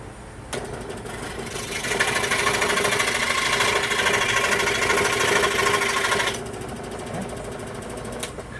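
A power tool buzzes steadily for about four seconds while cutting a piece off a handmade flute made from sawgrass, with a sharp start and stop and a quiet room before and after.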